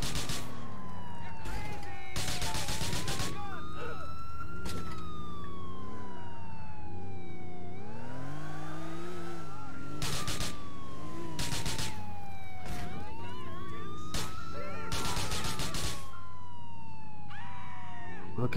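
An ambulance siren in the video game GTA 4 wails, sweeping slowly up and down in repeated cycles, loud and continuous, with engine rumble and intermittent speech over it.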